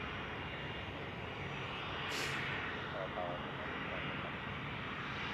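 A Finnair Airbus A321 jet arriving from Helsinki lands at Zurich Airport, a steady distant engine roar that swells slightly partway through, heard from a spotting position under wind noise and faint background chatter.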